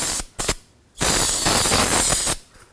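Brake cleaner is sprayed onto a front brake part of a 2004-10 Toyota Sienna, first as two short hissing spurts and then as one long, loud sustained blast lasting over a second, all close by.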